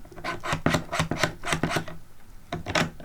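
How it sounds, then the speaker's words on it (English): An Allen wrench turns screws to tighten a SmallRig top handle onto a camera, giving short, rhythmic scraping clicks up close in two bursts separated by a brief pause. "take the Allen wrench, and wrench her in"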